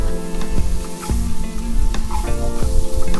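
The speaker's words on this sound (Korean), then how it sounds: "색이 조금 나면 샐러리 그리고 당근 잘 볶아주세요. 여기에 마늘을 넣고" Celery, carrot and garlic sizzle loudly in a pan while being stir-fried, with a steady crackle broken by repeated scraping taps of a spatula. There is no talk.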